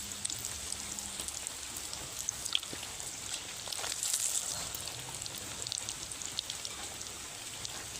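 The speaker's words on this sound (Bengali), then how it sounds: "একই রকমভাবে সবগুলো কাবাব আমি ভেজে নেব।" Egg jali kebabs frying in hot oil in a pan, a soft continuous crackle and sizzle with scattered pops, fairly faint and close.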